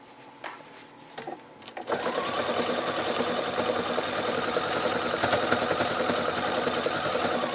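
A Pfaff Quilt Expression 4.0 sewing machine with dual feed engaged doing a hand-quilt stitch, starting after a few handling clicks and then running in a steady close whirring stitch rhythm.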